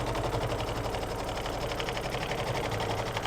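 An embroidery machine runs a tack-down stitch line, its needle hammering in a fast, steady rhythmic chatter, close and continuous with no talk.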